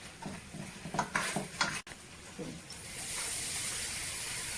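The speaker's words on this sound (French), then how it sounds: "je laisse bien mijoter, mais en faisant attention que ça ne brûle pas" Oxtail simmers in a pot as a few soft scraping stirs and light clinks of the utensil sound close by, then give way to a quiet, steady hiss of the cooking.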